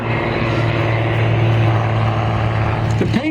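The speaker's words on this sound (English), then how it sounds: "It's a classic airplane with a modern engine." A classic original propeller airplane fitted with a modern engine drones loudly and steadily nearby, a constant buzzing engine tone with a slight shift near the end.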